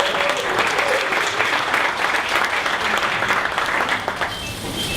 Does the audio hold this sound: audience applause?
yes